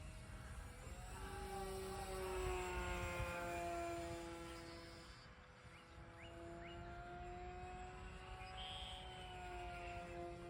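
An E-flite RJ Gritter Decathlon RC plane flying at about half throttle on a 4S 2200 pack gives a faint electric whine that rises and falls steadily as it passes in the distance.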